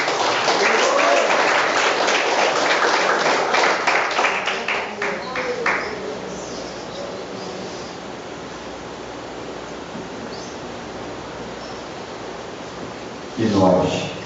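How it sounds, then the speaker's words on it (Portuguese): A church congregation claps loudly for several seconds, a dense wash of applause that thins and fades into room noise before a voice briefly returns at the end. "Palmas para o Senhor Jesus."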